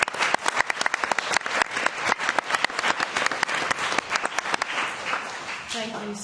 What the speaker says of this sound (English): A round of applause for our esteemed panel.